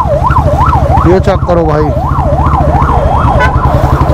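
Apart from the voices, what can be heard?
ambulance siren in traffic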